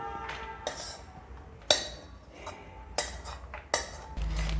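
Cooked spice paste scraped and poured out of a cooking pan with a metal utensil, giving a few sharp clinks and scrapes of metal on metal at irregular intervals, fairly close, with no talk.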